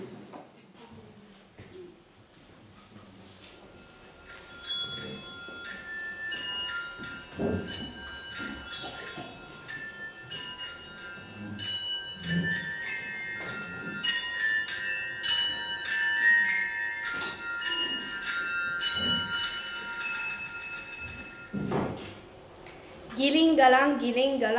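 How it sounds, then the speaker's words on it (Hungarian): Small bells ring in a Christmas school performance, bright repeated tinkling over a quiet room, with voices and shuffling noises around them and a short burst of louder voices near the end. "Karácsonyra szól a harang."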